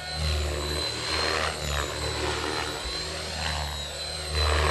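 A professional model helicopter flying a 3D aerobatic display gives off a steady buzzing whine, with rotor pitch and loudness swelling and easing as it maneuvers at moderate distance.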